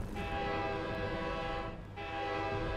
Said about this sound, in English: Everyone honk your horn.